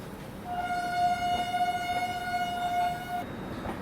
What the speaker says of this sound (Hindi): मुंबई राजधानी एक्सप्रेस।